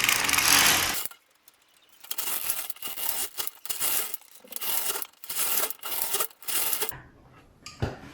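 A domestic knitting machine carriage knits eight rows of a border at a tight tension setting, each pass a rattling mechanical sweep with clicking, repeated in a steady back-and-forth rhythm of roughly a dozen close, moderately loud strokes.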